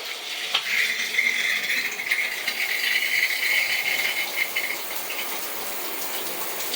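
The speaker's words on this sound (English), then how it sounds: "All the heads are dispersing water from all the little holes, which is good." Water gushing from freshly cleaned bathtub shower heads in a bathroom, a loud, steady hissing spray that runs continuously and evenly throughout, with no voices over it.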